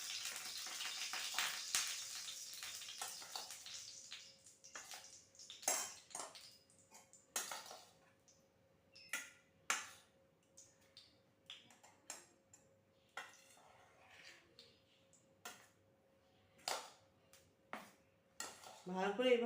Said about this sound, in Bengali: ভালো করে এইভাবে পাউরুটি দিয়ে মাখিয়ে নিতে হবে